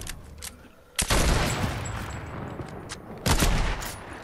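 Fortnite video game gunfire, with two loud, close bursts of shots about two seconds apart, each followed by a sustained rush of noise that slowly fades.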